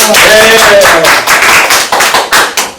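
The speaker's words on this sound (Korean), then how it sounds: "박수 한번 치고 들어갈까요?" A crowd claps together, a dense burst of applause that tapers into scattered claps, with a voice briefly heard at the start.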